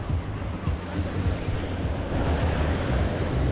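Ocean surf breaks at Playa del Carmen beach in a steady, loud, continuous wash, with wind buffeting the microphone throughout.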